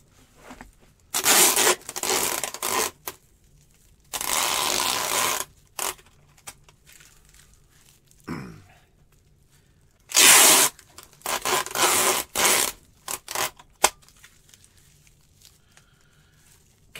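Packing tape is pulled and wrapped tightly around a large fragile antique. Loud ripping, screeching bursts of tape peel off the roll in several pulls, separated by quiet gaps and a few light handling noises.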